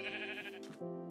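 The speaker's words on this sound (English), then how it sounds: "I could kill these sheep." Minecraft sheep bleat twice in quick succession, a nasal wavering baa followed by a shorter second call, close and clear with no talking.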